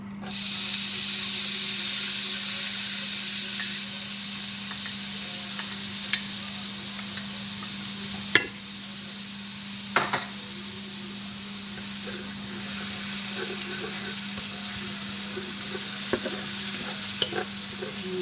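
Onion frying on a tawa for a laham meat fry, giving a loud, steady hiss and sizzle that softens slightly over time, with a few sharp stirring clinks near the pan.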